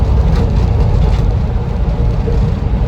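A 1976 Land Rover Series III 109 pickup driving along, a loud, rough low engine drone with road noise and a faint, light rattle from a sliding side window.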